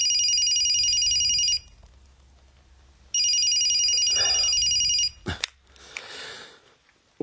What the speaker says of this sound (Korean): 수강생이 문제지를 채점하는데 전화가 왔다